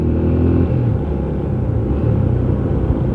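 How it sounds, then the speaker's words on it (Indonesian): A 2008 Yamaha Scorpio 225 (Scorpio Z) motorcycle engine rumbles low and steady while riding, with slight pitch shifts and continuous wind-like roar, no talk. "motor yang saya pakai ini yaitu motor Yamaha Scorpio 225 produksi tahun 2008"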